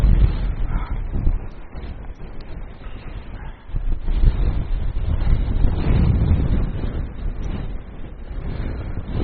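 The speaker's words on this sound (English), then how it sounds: "It's very windy" Strong wind on a mountain summit in Wales buffets the microphone in a constant low roar with gusty surges and no voices.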